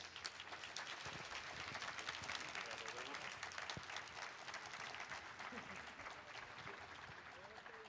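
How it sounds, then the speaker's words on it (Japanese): Crowd applause after the final of the JAPAN 2022 Stage 10 Chiba event, a quiet, distant patter of many hands that holds steady throughout, with faint voices mixed in. "もう一度大きな拍手を"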